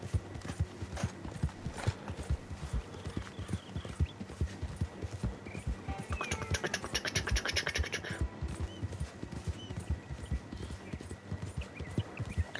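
Horse hooves gallop in Red Dead Redemption 2, a steady fast clip-clop rhythm that runs the whole time at close, even loudness, with a brief rattling scrape partway through and no speech.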